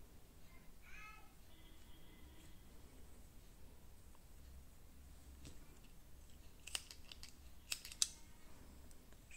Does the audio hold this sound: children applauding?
no